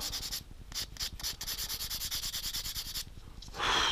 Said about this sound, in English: A bit of light sand in there.